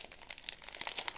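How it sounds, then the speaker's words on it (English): A penknife lightly scores the edge of a glued Strathmore watercolour paper block, giving a brief close crinkly scratching and tearing of paper. "Very lightly, I don't want to score through to the carded background."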